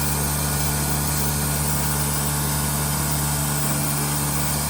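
A Mercedes OM606 diesel engine in a drag car runs steadily, a loud, dense, unbroken drone with a strong low hum and broadband roar filling the whole stretch, no voices heard.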